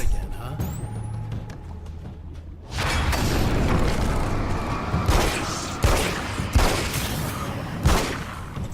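Gunfire from the video game Alan Wake's American Nightmare: after a quieter stretch, a dense burst of loud shots and impacts erupts, followed by several sharp, evenly spaced single blasts over background game noise.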